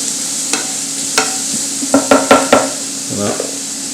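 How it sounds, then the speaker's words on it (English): Vegetables sweating in a pot for a meat sauce: a soft sizzle runs underneath while a spoon knocks and scrapes in a quick cluster of stirring strokes, with a few single clunks before it. "we're going to sweat off our vegetables. So we just put those right in there. Mix those up a little bit."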